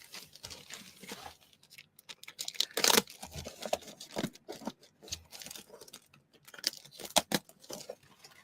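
A knife slices open plastic-wrapped comic book and manga packages, with crinkling, tearing and scraping in uneven bursts close by, some sharper rips standing out, and no voices.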